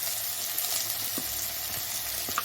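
Onion, curry leaves and green chilli hiss loudly in hot oil, a dense continuous sizzle close up with a few sharper crackles, and no one talking.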